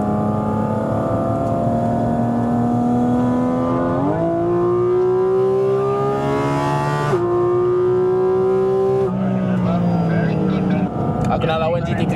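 A Porsche accelerating hard, its engine note climbing loudly through several gears with quick shifts that briefly drop the pitch, heard close from inside the car.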